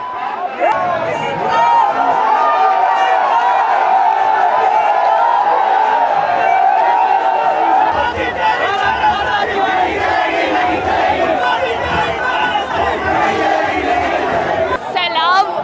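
A huge protest crowd at Jantar Mantar in Delhi roars and shouts without pause, a dense wall of massed voices that stays loud and close from start to finish.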